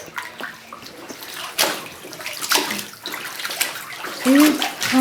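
A little girl splashes and kicks her feet in a bathtub at home. Choppy water sloshes and slaps in uneven bursts, and a voice and an adult's speech are heard in between.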